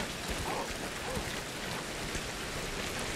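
Rain in the video game Ancestors, a dense, even hiss of steady rainfall that continues unbroken at moderate loudness with no voices over it.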